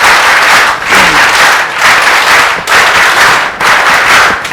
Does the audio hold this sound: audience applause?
yes